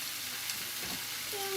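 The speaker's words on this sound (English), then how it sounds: "we just saute this until the pork is cooked" Pork sautéing in a pan gives off a low, steady sizzle that holds through the short stretch, with a faint swell of stirring near the middle and a thin tone rising at the end.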